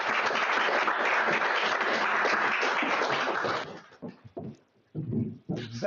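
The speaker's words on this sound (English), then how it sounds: "you should give a big applause to the team of FreeMind today" Audience applause at an incubator demo day, broad and steady for nearly four seconds, then breaking off into scattered quieter sounds and a few short bursts.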